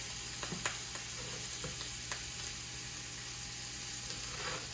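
Steak searing in butter with thyme, rosemary and garlic, a constant soft sizzle with a few light clicks from the pan, no voices.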